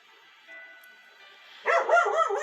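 A dog barks outside in a rapid run of four or five sharp, fairly loud yaps after a quiet stretch with faint tonal background hum.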